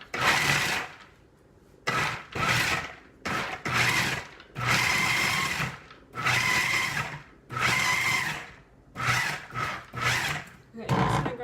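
A blender grinds food ingredients in repeated short bursts, loud whirring pulses separated by brief pauses, close by, with no speech over the motor.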